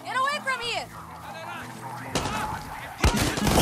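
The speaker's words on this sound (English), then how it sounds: "Why are you shooting so loud for?" Loud gunfire from a poorly suppressed weapon in Far Cry 6, bursting out in a few sharp blasts near the end, with excited voices talking over the first part.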